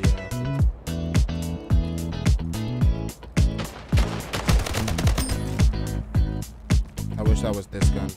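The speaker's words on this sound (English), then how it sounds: "That was this gun." Rapid automatic gunfire from a weapon in the video game Splitgate, rattling bursts of close, loud shots with brief pauses between them.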